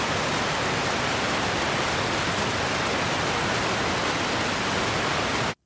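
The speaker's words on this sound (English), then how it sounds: "so I made it so it's raining. It's really raining." Heavy simulated downpour drums on a tin roof and ground in a dense, unbroken hiss of close, loud rain that cuts off abruptly at the end, no talking.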